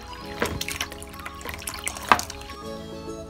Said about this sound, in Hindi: अब हम इसमें बिल्कुल चिल पानी डालेंगे, बहुत ठंडा पानी, जिसकी वजह से मक्खन बाइंड होना शुरू हो जाएगा।